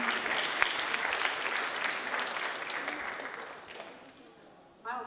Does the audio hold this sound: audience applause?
yes